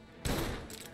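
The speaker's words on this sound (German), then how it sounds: "Tommy Gun." A Tommy gun in Mafia Definitive Edition rips off a short, loud automatic burst that starts abruptly after a brief quiet moment and carries on with rapid crackling reports for most of a second.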